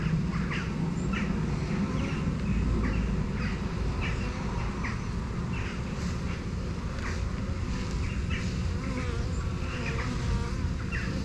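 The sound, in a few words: honeybee swarm buzzing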